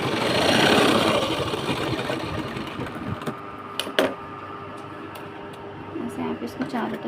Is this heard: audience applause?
no